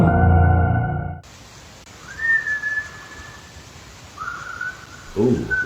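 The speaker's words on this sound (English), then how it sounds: "Ooh, whistles. I don't like whistles." Eerie drawn-out whistles sound in a quiet, hissing space, faint and seemingly distant: a long wavering tone, then a second rising one. A short vocal exclamation comes before the whistles, and another follows at the end.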